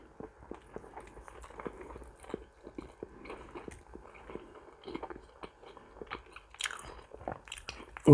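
Someone eats a piece of fatty pork up close, with repeated soft bites and chewing, wet crunchy mouth sounds in an uneven rhythm and no talking.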